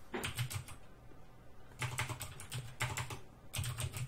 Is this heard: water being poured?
no